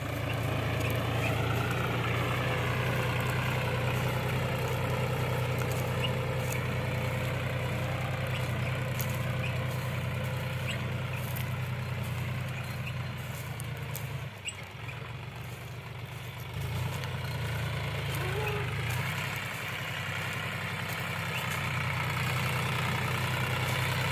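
A John Deere tractor stands in a field during chickpea sowing, its engine idling with a steady low rumble and drone, close and continuous. A brief dip comes midway.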